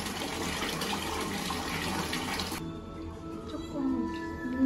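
Makgeolli bath shower with rice-wine liquid running, a steady splashing hiss that drops off partway, leaving quieter trickles under faint background voices.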